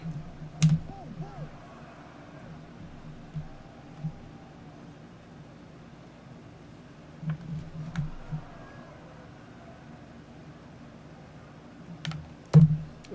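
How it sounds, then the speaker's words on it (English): Computer keyboard keys clicked during a 1985 Kansas City at Oakland baseball replay simulation: a handful of sparse, quiet taps and clicks spread over a low steady hum, with no talking. "Well, the keyboard got stuck again."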